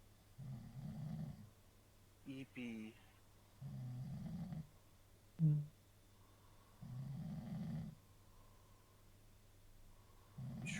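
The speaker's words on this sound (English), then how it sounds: "He is snoring a fucking storm over there." A man snoring heavily nearby, deep rasping breaths repeating in slow, regular waves about every three seconds, with brief speech between some of them.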